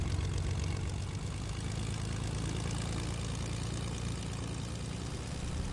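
A propeller airplane engine drones in a video game, a steady low humming throb that holds at an even level the whole time with no voices over it.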